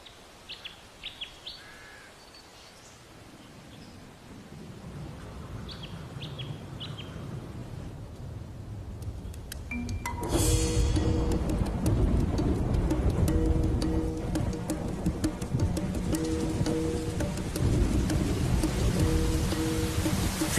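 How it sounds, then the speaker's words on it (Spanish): Heavy rain and thunderstorm breaking at the start of the wet season in tropical northern Australia: faint bird calls give way midway to a sudden, loud, steady roar of downpour with rumbling, with no voices. "Se desatan tormentas. Y se suceden los intensos aguaceros."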